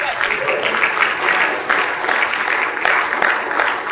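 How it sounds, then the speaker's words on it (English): Audience applause at a Netroots Nation political panel, a steady wash of clapping from a crowd that holds level for about four seconds with no pause. "we got to applaud for everybody"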